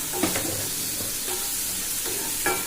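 Tomatoes, onions and dried fish sautéing in a pan, a steady broad sizzle with a few soft stirring scrapes, close and even.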